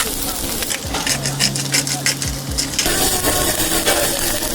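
A steak sears in a ripping hot pan, giving a loud, continuous close sizzle and crackle with brief spatters, the frying hissing steadily throughout without speech.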